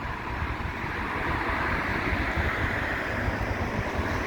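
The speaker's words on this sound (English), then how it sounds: "it's just windy all the time." Steady wind roars against an outdoor microphone at a windy seaside fireworks championship venue, a continuous broadband rush with low buffeting rumble and no talking.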